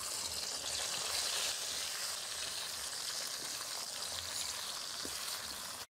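Tomatoes hitting hot mustard oil in a heated pan, giving a steady, loud, dense crackling sizzle that holds evenly before cutting off abruptly, with no talking.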